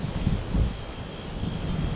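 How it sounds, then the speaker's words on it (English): Strong wind buffets the microphone in low, uneven gusts, a steady rumbling roar with heavier bursts, no voices. "it's always so dang windy"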